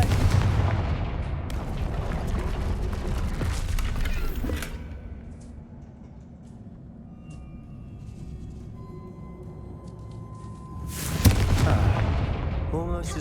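A Confringo blasting spell goes off in the game Hogwarts Legacy, a heavy booming explosion with a long roaring rumble, loud and close, then a quieter lull before another big blast at the end.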